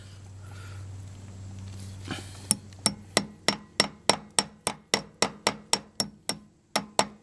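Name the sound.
hammer tapping part back in on tractor wheel hub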